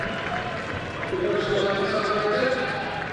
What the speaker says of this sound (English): Crowd still in fine voice despite the scoreline.